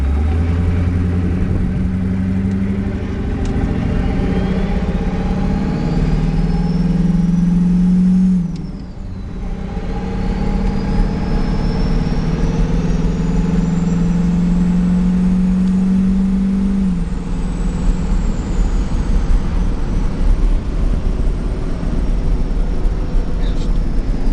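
Diesel truck engine with an S300 turbo and a full 4-inch exhaust, revving loudly and up close in steady deep pulls that rise and fall, with a brief dip midway, a turbo whistle sweeping above the throaty drone.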